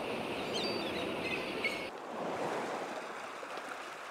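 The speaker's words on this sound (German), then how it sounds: "Die Flut setzt ein." Rising tide water rushes in as a steady, broad wash of surf-like noise in an adventure video game, moderately loud and continuous, with a faint high tone cutting off partway.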